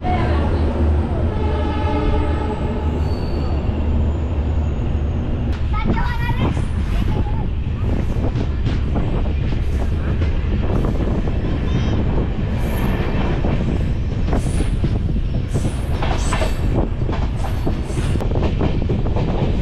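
Train wheels clatter over the rails of the moving Jan Shatabdi Express passenger train between Guwahati and North Lakhimpur, a steady loud rumble with rhythmic clicks and squeals, after a long horn-like tone fades early on.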